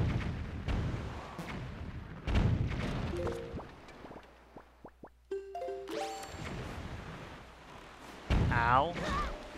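Cannons firing around the Forsaken Fortress in The Legend of Zelda: The Wind Waker, heard as several short, sharp booms and pops in a row, with game sound effects and someone talking over them.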